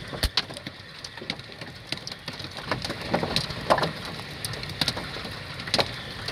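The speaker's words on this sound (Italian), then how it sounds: "Questo è tutto grandine" Hail falls during a supercell storm on 16 September 2022, with hailstones the size of mandarins. Sharp scattered impacts crack near and far over a steady wash of rain.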